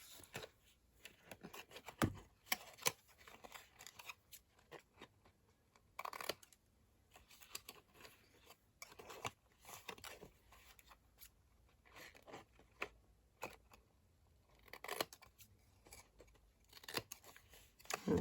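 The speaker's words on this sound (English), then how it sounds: "We just want to cut that off." Scissors snip away a scored piece of paper for a vintage tree decoration, a string of quiet, crisp cuts and paper rustles in irregular bursts, without talking.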